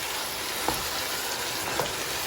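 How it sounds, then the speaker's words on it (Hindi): Chicken curry (salan) cooking in a covered pan, a gentle continuous sizzle and bubbling hiss with two faint soft knocks, quiet and steady without voices. "चिकन जो है वो अच्छी तरीके से कुक हो रहा है"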